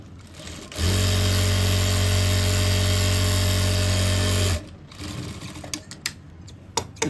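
An electric sewing machine runs one steady, loud burst of stitching that lasts a few seconds, sewing a seam along the side of a boy's co-ord set. It stops abruptly, followed by soft handling clicks and rustles.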